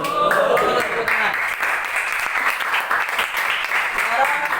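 Students in a classroom clapping during a religious-morals lesson, a short burst of applause mixed with children's voices talking over it.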